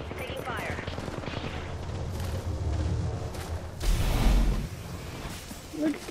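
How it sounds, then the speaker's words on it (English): Gunfire crackles through an Apex Legends match, with bursts of machine-gun fire and a heavier boom near the middle, heard amid game noise and some voice chatter. "Taking fire."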